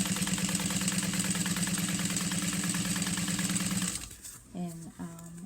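A sewing machine stitches a bag in a steady, close, rapid whirring rhythm for about four seconds, then stops, leaving a few brief voiced sounds.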